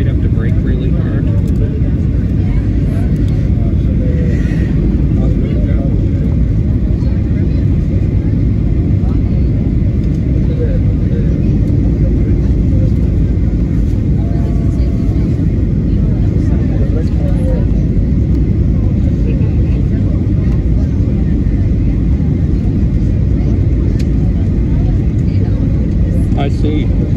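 A Sunwing Airlines Boeing 737-800 lands at Juan Gualberto Gómez International Airport and brakes, giving a loud, steady, broadband roar that rumbles on without letup for the whole stretch.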